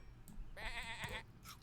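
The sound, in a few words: sheep bleating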